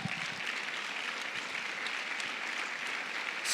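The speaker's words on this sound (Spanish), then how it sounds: "Dale un aplauso al Rey." A church congregation claps together during a Sunday sermon, steady and dense applause filling the room at moderate level, with no voices audible over it.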